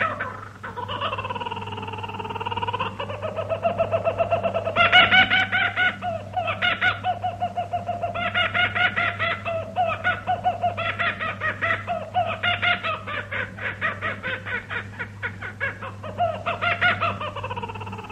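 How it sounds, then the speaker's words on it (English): An Australian shortwave radio station plays a kookaburra's call as its sign-on: a long, rolling cackle in rhythmic bursts, heard through the broadcast over a steady low hum. "The station also used the call of the kookaburra bird as part of its sign-on routine"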